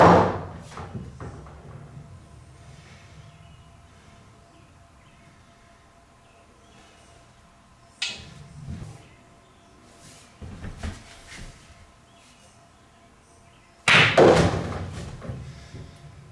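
A cue strikes a pool ball, sending it into the pocket. A few sharp, hard knocks and thuds are spaced apart across a quiet room, with the last one loudest and no talking.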